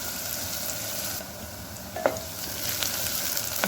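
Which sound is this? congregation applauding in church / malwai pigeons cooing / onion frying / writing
onion frying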